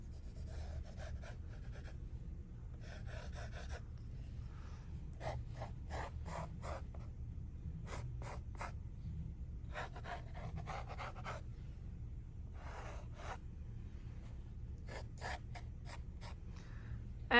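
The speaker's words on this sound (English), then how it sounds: "I'm going to use a 2H so I can draw really lightly" A 2H graphite pencil draws light grid lines on paper, producing soft, repeated scratching strokes in short bursts with brief pauses, close and quiet over a steady low background hum.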